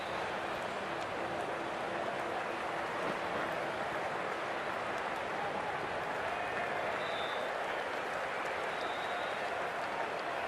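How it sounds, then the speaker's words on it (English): A cricket crowd at an India versus Pakistan Asia Cup match applauds a departing batsman with continuous, dense clapping and crowd noise that holds steady throughout, with a faint murmur of voices mixed in. "they'll receive a warm reception from the crowd"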